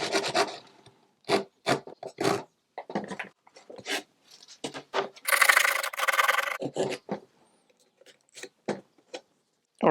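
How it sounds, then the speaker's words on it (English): A Japanese pull saw cuts notches in wood in short, crisp rasping strokes. The strokes come in irregular bursts, close and loud, with brief pauses between them. "I'm just going to use this Japanese pull saw because it gives me a lot of control."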